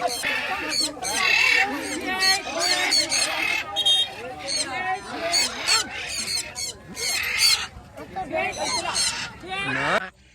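Loud, honking macaw calls overlap continuously, goose-like and raucous, with people talking faintly beneath the racket.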